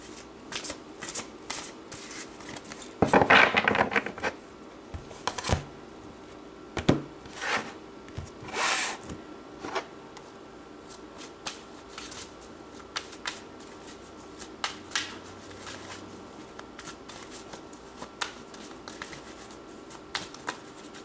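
Tarot cards are shuffled by hand, with a quick riffling burst early on followed by scattered soft snaps and taps of cards being handled, no talking.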